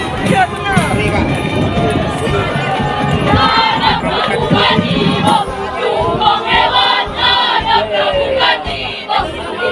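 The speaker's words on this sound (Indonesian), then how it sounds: "Beri tepuk tangan yang meriah." Crowd at a scout camp in South Sumatra erupts in loud cheering and shouting, many young voices yelling and chanting together in bursts over a continuous noisy roar, close and energetic throughout.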